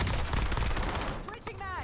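Sustained rapid gunfire in a Warzone match, loud and continuous as shots are fired through a wall, with a voice briefly audible under it.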